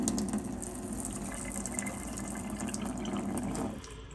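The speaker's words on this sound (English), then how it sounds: "this is obviously the spout that comes with it, just to show you kind of the flow you can expect" Water runs steadily from the spout of an APEC ROES-50 reverse osmosis faucet under a kitchen sink, a constant close hiss and splash that tapers off near the end, with no talking.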